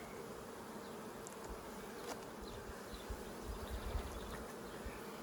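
Honeybees buzzing around a hive frame of brood and stored honey on a pollination farm, a soft steady hum with individual bees drifting close now and then, no talk.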